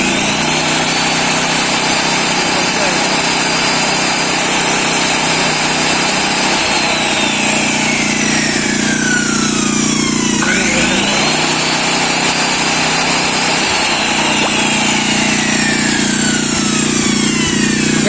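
Krisbow Silent 2000 W petrol generator running steadily under a 1000 W load, a loud continuous engine drone with a brief dip and recovery in pitch midway, no talking.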